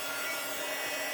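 A heat gun blowing hot air, a steady close whooshing hiss with a faint motor hum underneath, constant and uninterrupted throughout.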